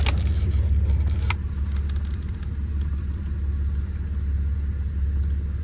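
A 1991 Chevrolet Blazer engine idles steadily, a low continuous rumble held close throughout, with no voices over it.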